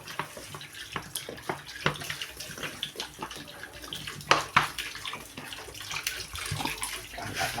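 Broth poured from a container into a pot of browned chicken for tinola, a steady close splashing and trickling of liquid with small clinks.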